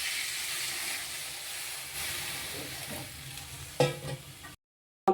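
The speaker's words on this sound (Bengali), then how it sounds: "এবার আমি এর মধ্যে জল দিয়ে দিচ্ছি" Fried potatoes in a pan sizzle and hiss loudly, then the sizzle changes as water is poured in for a fish curry, with a sharp burst near the end before the sound cuts out.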